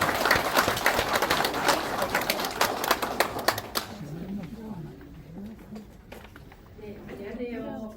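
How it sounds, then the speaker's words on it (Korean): Audience applause welcoming a lecturer from an apple research centre at a pest-control training session; a burst of clapping fades after a few seconds, leaving a quieter room with a voice speaking. "국립원예특작과학원 사과연구센터 김순경 선생님을 박수와 함께 앞으로 모시도록 하겠습니다."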